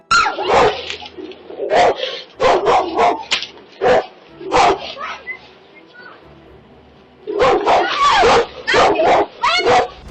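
An unleashed dog barks and yips aggressively in loud, repeated bursts at a woman out walking, with brief pauses between volleys and voices faintly mixed in.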